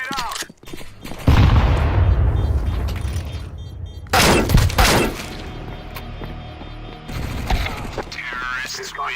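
A grenade explodes in Counter-Strike 2 with a loud boom and a long decaying rumble, then a second burst of noise a few seconds later, with game sounds around it.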